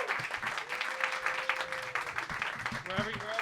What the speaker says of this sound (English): Start clapping right now for Yurié